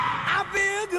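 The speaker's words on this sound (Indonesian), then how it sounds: "Oh, dia menjerit latah gitu." A person lets out a sudden high, wavering scream in a latah startle reaction, rising and breaking over about a second, loud and close.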